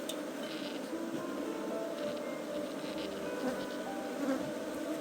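Aggressive bees swarm around apiary beehives in Fonté Dzoudzou, making a dense, steady buzzing drone that holds throughout at moderate distance.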